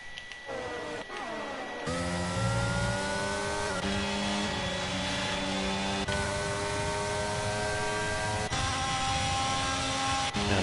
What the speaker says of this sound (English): A lot of cars spinning out there.